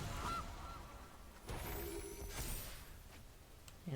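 A goose honks in a card video game, two short, faint cartoonish honks over quiet game sounds and clicks, with no talking.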